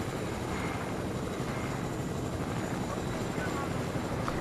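A helicopter flies in the Fortnite video game, its rotor and engine giving a dense, continuous roar at steady loudness for the whole stretch, with no other distinct sounds standing out.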